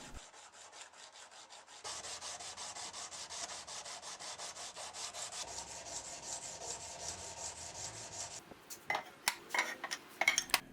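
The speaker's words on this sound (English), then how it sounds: "Now I'll sand the whole knife to about 320 grit before doing the heat treatment" A handmade Wharncliffe knife blade is hand-sanded toward 320 grit in a fast, steady series of rasping strokes that run for several seconds, close up, ending in a few louder scrapes and clicks.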